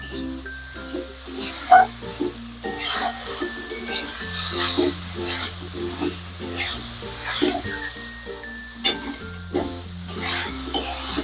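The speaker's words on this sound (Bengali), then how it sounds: "হলুদ গুঁড়ো দেওয়ার পরও কিন্তু আবারও কিছুক্ষণ সময় ধরে নাড়িয়ে চাড়িয়ে কষিয়ে নিয়েছি মাংসটাকে।" Meat with turmeric powder is stirred and sautéed in a pan for a chicken spring roll filling, with a soft steady sizzle under repeated scraping and clinking strokes of a spoon against the pan.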